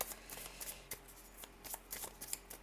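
Unicorn oracle cards illustrated by Paolo Barbieri are shuffled and handled, giving a close, soft run of riffling flicks and papery taps with no talking.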